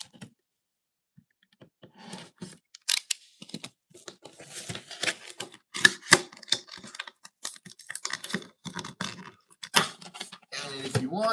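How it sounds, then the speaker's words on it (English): An anime figure of Toru Hagakure is taken out of its packaging, with close plastic crinkling, rustling and sharp clicks of parts and tabs coming in dense irregular bursts after a quiet start, with no talking. "let's get Hagakure out of the packaging"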